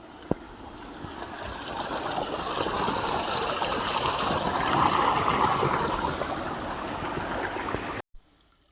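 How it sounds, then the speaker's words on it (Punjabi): Canal water flowing through an irrigation channel at night, a steady rushing and gurgling wash that swells slightly in the middle, close and continuous, with a sharp knock near the start and an abrupt cutoff at the end. "ਆ ਚੱਲੀ ਜਾਂਦਾ ਨਹਿਰ ਦਾ ਪਾਣੀ"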